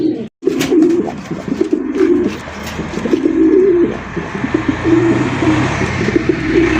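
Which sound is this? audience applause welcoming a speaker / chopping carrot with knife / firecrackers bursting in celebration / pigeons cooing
pigeons cooing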